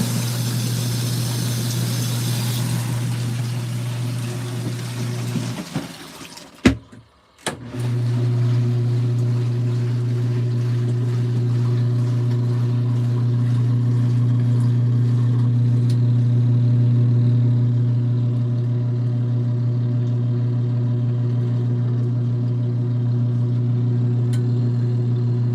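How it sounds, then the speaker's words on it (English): An LG ThinQ MEGA washer spins through a rinse cycle, a loud steady low hum and whir that drops out briefly with a clunk, then resumes and holds at the same level, with no talking. "second time we're going through a spinning rinse"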